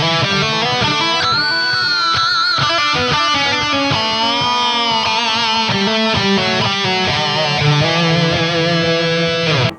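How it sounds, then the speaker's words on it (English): Electric guitar played through a lo-fi echo delay effect with trails on a Valeton GP200 or Line 6 Pod Go modeler, sustained chords and notes smeared with repeating echoes, loud and continuous with no talking. "one of my favorites here is this lo-fi echo delay"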